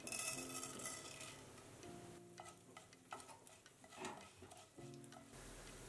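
Urad dal and spices fry in a little oil in a pan, a low sizzle under intermittent stirring scrapes and small clicks, close and quiet.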